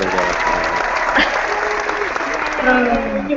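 A dense, steady applause sound effect from a crowd fills the whole stretch, loud and continuous, with some voices mixed in underneath.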